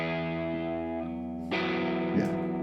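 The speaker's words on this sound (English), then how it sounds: "ringing, just a ringing out guitar basically" Electric lead guitar with chorus effect rings out with sustained, shimmering held notes that change pitch a couple of times, with a fresh bright pluck midway, steady and moderately quiet.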